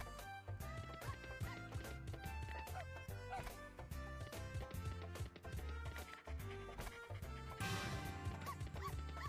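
Yapping and yipping dog barks rising from a slot machine game's busy electronic music and chiming effects, a dense, continuous run of short repeated sounds, fairly quiet and steady throughout.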